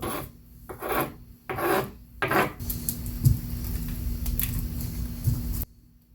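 Coarse side of an abrasive block pressed hard and scraped across brick, starting as three short rasping strokes, then one long, continuous gritty grind that stops abruptly near the end, close and loud, with no voices.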